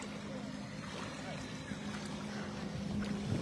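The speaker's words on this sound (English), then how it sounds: "Cody, I can hear the engine purring." A steady low boat engine hum runs throughout at a freestyle waterski jumping competition, with wind and water noise over it at a constant level.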